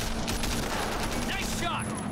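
Dense, continuous gunfire in the open-world action game Sleeping Dogs: Definitive Edition, a loud unbroken fusillade of overlapping shots filling the whole moment with no pause.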